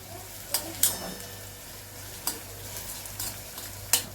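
Onion and curry leaves sauté in oil for kadhi pakora, a faint soft sizzle with a few sharp scraping stirs of a spoon against the pan at intervals.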